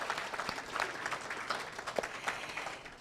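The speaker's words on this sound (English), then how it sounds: "Join me in one final round of applause for all of our women leaders" An audience at an awards program honoring women leaders gives a round of applause, steady dense clapping heard from a moderate distance at modest volume throughout.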